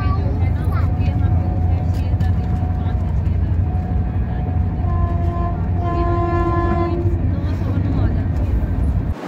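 A train, the 12380 Jallianwala Bagh Express from Amritsar to Sealdah, runs through Kudra station with a loud, steady rumble and hum that holds for the whole stretch, and faint voices sit underneath.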